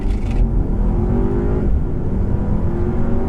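A 2015 Audi A3 engine pulls hard under acceleration in regular drive mode with traction control on, a steady, loud interior drone with rising harmonics that dip briefly as a gear shifts, then climb again.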